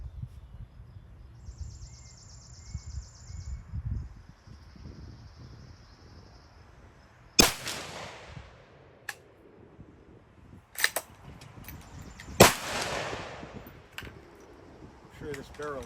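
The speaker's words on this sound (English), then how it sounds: "Let me send these last 3 just to get rid of these full metal jackets." Three gunshots from a .458 SOCOM rifle firing full metal jacket rounds at an outdoor range, sharp loud cracks spaced a few seconds apart, with faint birdsong and low background noise between them.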